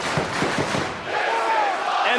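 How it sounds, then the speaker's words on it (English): Wrestling crowd at a Ring of Honor match roars and cheers loudly and steadily throughout, a dense wash of voices with rhythmic chant-like bursts near the start. "And the crowd knows it."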